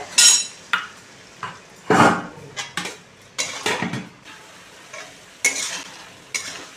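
A ground mustard, poppy seed and green chili paste is stirred in a hot wok, with a series of scraping, clattering stirs and soft sizzles close by, spaced irregularly with brief pauses.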